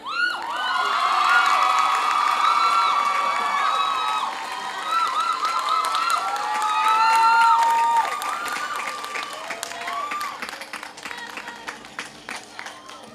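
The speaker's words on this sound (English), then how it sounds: "Another round of applause, please." A high school graduation audience claps and cheers loudly, with shouts and whoops rising over sustained applause that gradually thins into scattered claps.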